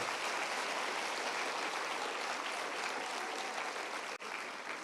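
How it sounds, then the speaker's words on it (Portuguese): Congregation at a church service applauding together, a dense, steady wash of clapping that fills the room without a break and cuts off briefly near the end. "Aplauda o Senhor."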